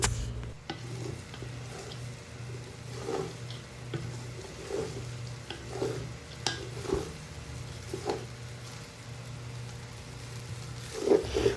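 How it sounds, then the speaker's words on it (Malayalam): A wooden spoon mixes restaurant-style fried rice in a pan, giving soft, intermittent scrapes and light taps at an unhurried pace over a faint background hum, with no talking. "ഇപ്പോൾ നമ്മൾ ഇതുപോലുള്ളൊരു മരത്തിൻ്റെ തവിയൊക്കെ വെച്ചിട്ട് മിക്സ് ചെയ്തെടുക്കുകയാണെങ്കിൽ ഉടയാണ്ട് മിക്സ് ചെയ്തെടുക്കാൻ പറ്റും"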